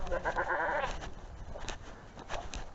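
A goat bleats close by in one drawn-out wavering cry, followed by fainter, shorter sounds against quiet outdoor background noise.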